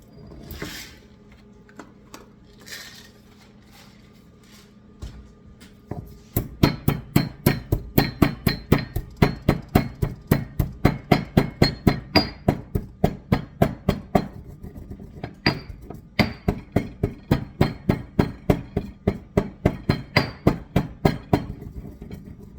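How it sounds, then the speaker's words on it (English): Black pepper cracked in a hand pepper mill over baked eggs with tomatoes and feta, a quick run of sharp, evenly spaced grinding clicks, close and loud, after a few seconds of quieter kitchen handling sounds. "now I have to crack some black pepper"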